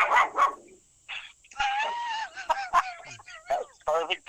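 A dog barks and yips several times nearby, with whimpering notes mixed in, while people talk over it on a call.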